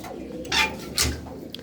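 Pigeons cooing at a loft, two soft throaty coos about half a second apart over low background noise, nearby and moderately loud.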